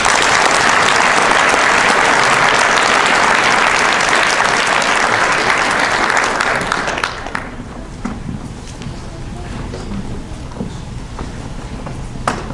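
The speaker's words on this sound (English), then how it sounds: "Okay, let's give me another round of applause." An audience at a Days of Remembrance ceremony applauds loudly and steadily for about seven seconds, then the clapping stops abruptly, leaving quieter room noise and scattered light sounds.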